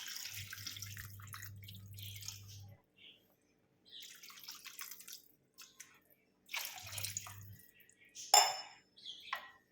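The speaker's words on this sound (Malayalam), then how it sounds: "ഇനി ഇതിലേക്ക് ഒരു ഗ്ലാസ് വെള്ളം ഒഴിക്കാം." Water gushes and splashes into a pan of Kerala sardine curry in a few bursts, close and moderately loud, with a metallic clink near the end and no talking.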